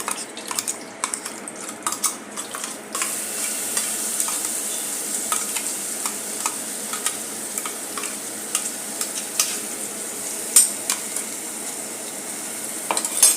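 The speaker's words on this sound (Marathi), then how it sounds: "हे हिरवा मसाला जो वाटून घेतलेला आहे, तो आपण यामध्ये घालून घेऊयात" Ground green masala paste of onion, coriander, ginger and garlic fries in a pan with a steady sizzle, while a utensil scrapes and clinks against the metal in frequent, irregular strokes throughout, close and fairly loud, with no talking.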